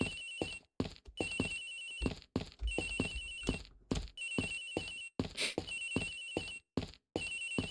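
A cell phone plays a lullaby-style ringtone in the video game Ace Attorney Investigations, a repeating melodic phrase cycling loudly with short gaps between loops, with no talking over it.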